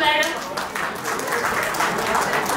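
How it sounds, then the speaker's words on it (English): A school reunion audience of former students gives a teacher a round of applause: a short burst of dense clapping from a crowded room, steady and fairly loud, with a voice heard briefly at the start. "Big round of applause to madam."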